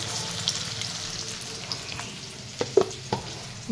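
Fried onions sizzle steadily in a pan as a little sugar is added, a continuous soft crackling hiss with a few stirring clinks and knocks near the end.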